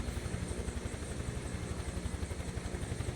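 Simulated helicopter in Microsoft Flight Simulator 2024, its rotor beating in a fast, even low pulse under a steady engine drone, close and unbroken for a few seconds.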